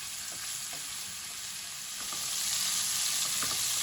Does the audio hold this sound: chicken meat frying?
yes